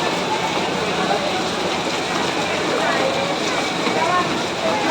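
Steady heavy rain hisses on a surface, dense and continuous, with a voice speaking faintly underneath.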